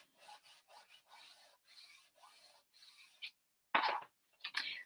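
A tool rubs back and forth over a glued paper hinge on an album page in a run of short, soft, dry scraping strokes, close and quiet, ending with a few firmer rubs.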